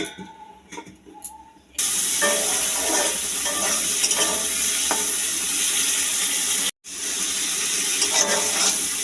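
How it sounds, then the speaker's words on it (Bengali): After a few soft clinks, a loud, steady sizzle of shrimp frying in a pan fills the scene, broken by one brief cut. "চিংড়ি মাছ ভাজা হচ্ছে"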